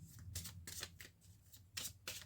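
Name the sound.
shuffling tarot cards for a reading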